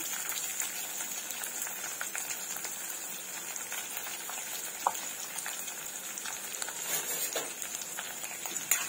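Green chilli and onion sauté in a pan for a Marathi pumpkin curry, giving a steady close sizzle and crackle with occasional sharp spatters and stirring scrapes, no talking.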